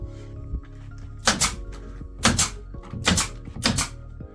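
Nail gun driving fasteners into wood lambri paneling boards on a triangular house build: four sharp, loud bangs, one each at about 1.3, 2.3, 3.1 and 3.7 seconds, over a low steady hum.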